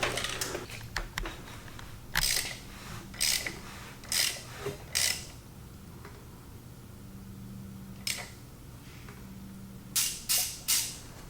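A BMW E36 barn-find engine's crankshaft is turned by hand during a compression check, giving a series of short, close mechanical clicks and ratcheting bursts in irregular clusters over a quiet background.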